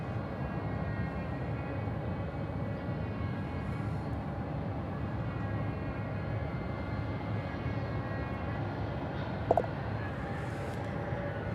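A UPS MD cargo jet departing DFW airport, a steady continuous roar of jet engines heard from a distance that holds level throughout with no talk.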